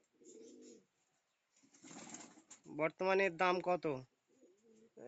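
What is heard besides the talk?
pigeons cooing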